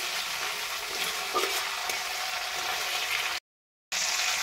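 Whole spices such as cardamom and cinnamon tempering in hot oil for a chicken and potato curry, a steady close sizzle with scraping stirring strokes, no talk, broken by a brief cut near the end.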